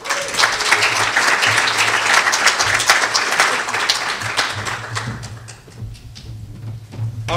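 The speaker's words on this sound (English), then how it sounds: "let's give him one more round of applause" Loud, close applause from an audience at an annual essay contest after a reader finishes, dense clapping that thins and softens toward the end before picking up again briefly.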